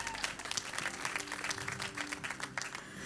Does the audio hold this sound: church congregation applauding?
yes